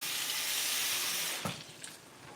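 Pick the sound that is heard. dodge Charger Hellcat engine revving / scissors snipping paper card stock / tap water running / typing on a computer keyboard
tap water running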